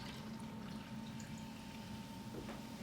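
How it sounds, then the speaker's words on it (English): Seltzer water pours into a rum cocktail, a faint, steady fizzing trickle lasting a few seconds against a low background hum. "we're going to add a little bit of seltzer water in here."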